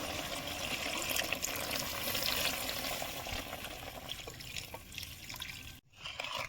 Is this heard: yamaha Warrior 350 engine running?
no